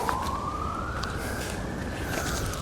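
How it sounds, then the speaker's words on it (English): An emergency vehicle siren passes outside a garden, a single rising, sustained wail heard faintly in the distance over a steady low rumble of traffic. "sometimes you hear those sirens"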